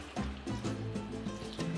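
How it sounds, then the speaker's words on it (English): Water poured into a pan over braised duck legs and green beans, a steady liquid fill with gurgling and trickling, close and moderately quiet, without speech. "Now, we add just enough water to cover everything."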